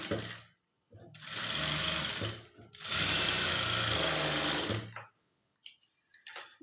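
A sewing machine stitches a blouse patti on fabric in two sustained, whirring runs separated by a short stop, followed by a few faint handling clicks.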